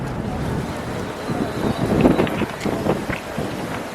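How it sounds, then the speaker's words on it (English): Gusty wind outdoors at a burger restaurant in San Jose buffets the microphone in uneven low rumbles, rising and falling throughout with no clear voices. "It's getting very windy here."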